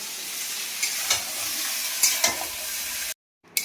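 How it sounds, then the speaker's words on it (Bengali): Sada note greens fry in a pan with a steady close sizzle, broken by a few scraping stirs before it briefly cuts to silence and returns. "সাদা নোটেটা ভাজা হয়ে গেল।"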